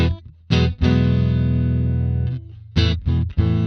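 A clean electric guitar tone from an Archetype Cory Wong amp plugin plays sustained chords and short stabs, loud and close, with crisp attacks and sudden stops between strums.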